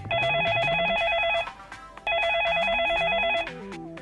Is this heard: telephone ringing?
yes